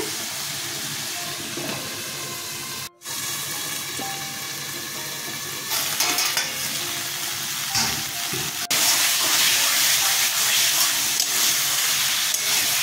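Water lily stems cooking with potatoes and peanuts in a pan as the water boils off and oil separates, giving a steady, loud sizzling hiss with bubbling that grows denser and brighter toward the end.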